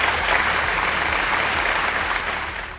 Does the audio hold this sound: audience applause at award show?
yes